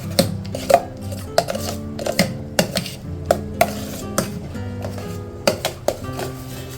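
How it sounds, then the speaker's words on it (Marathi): Shrikhand is mixed with cardamom powder and chopped cashews and almonds, a spoon knocking and scraping a bowl in repeated sharp clinks at an uneven rhythm, close and fairly loud, without talk. "चांगलं हलवून घेऊया."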